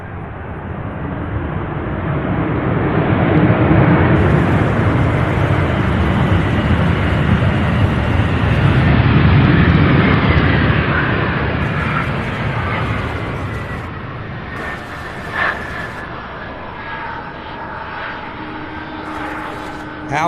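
A rare McDonnell Douglas MD-11 jet arrives at Louisville's SDF airport, a loud, sustained broadband engine roar that swells and peaks mid-clip before easing off, with a nearby voice talking over it.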